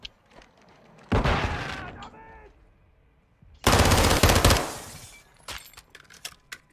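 Two loud, short bursts of machine gun fire in Call of Duty Modern Warfare 2, separated by quieter moments with faint clatter and a few small bangs after the second burst.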